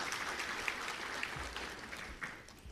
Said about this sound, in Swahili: Naomba tumpongeze kwa makofi mengi sana.